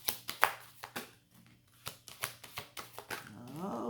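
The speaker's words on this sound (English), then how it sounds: "we're on the second shuffle here" Hands shuffling a deck of oracle cards, giving a quick run of close, crisp taps and riffles in irregular bursts with brief pauses between them.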